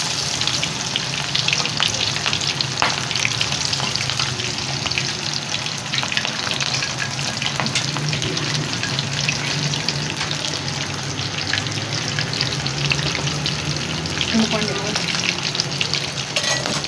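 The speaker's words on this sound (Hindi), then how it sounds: "अब कढ़ाई में ऑयल गरम करते हैं, इनको फ्राई कर लेते हैं।" Besan-coated chicken pakora frying in a kadai of hot oil, a loud, dense, continuous sizzle and bubbling that holds steady the whole time.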